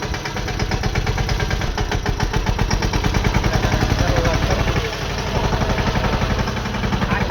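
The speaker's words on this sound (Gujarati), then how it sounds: "તમને બરોબર આમાં અવાજ નહીં આવે, કેમ કે ટ્રેક્ટરનો અવાજ આવે" A tractor engine chugs loudly while ploughing a farm field, a dense rapid rhythmic throb that stays steady and close throughout, with no talk over it.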